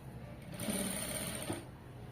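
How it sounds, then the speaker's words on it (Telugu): A sewing machine runs in one steady burst, stitching folded star-shaped neck piping on a garment. The whirring is close and even, with quiet room sound before and after. "ఇలా ఫోల్డ్ చేసుకుని నీట్గా స్టిచ్ చేసుకుంటూ వెళ్ళాలి"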